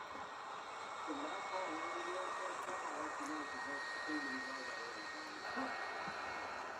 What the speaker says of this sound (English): If you hear that sound, that's the jet dryers.